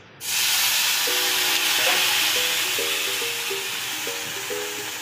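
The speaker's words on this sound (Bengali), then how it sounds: "রসুনটা ভালোভাবে ভাজা হয়ে গেলে সামান্য একটু জল দিয়ে দিচ্ছি।" A sudden loud sizzle and hiss bursts up as water hits fried garlic in a hot pan, then keeps steaming steadily, with faint voices talking in the background.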